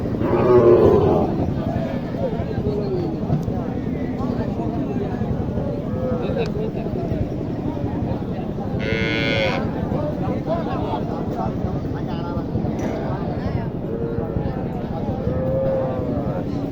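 Cattle, cows, bulls and calves, moo in long, low calls amid a busy crowd at a livestock market in Naogaon, Bangladesh, with people talking nearby and other animal noises scattered throughout.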